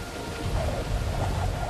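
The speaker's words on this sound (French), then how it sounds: "Ce soir-là, la tempête a été terrible, avec des vents violents et des pluies torrentielles." Heavy torrential rain of a violent typhoon pours down steadily, with a deep rumble of thunder or wind rolling underneath, loud and continuous with no voices.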